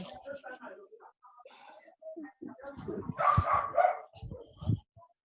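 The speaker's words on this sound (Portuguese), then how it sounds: "de quem é o cachorro que está latindo?" A dog barks somewhere in the background of an online class, with sharp yaps and whimpers mixed under a teacher and students talking over it.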